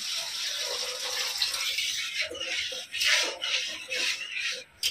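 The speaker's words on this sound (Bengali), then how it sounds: "হালকা একটু জুস বানানোর জন্য অল্প পরিমাণে জল দিয়ে দেবো" A small amount of water is poured into a simmering fish curry in a village kitchen, a steady splashing gush broken by short louder bursts, close and alone with no talk.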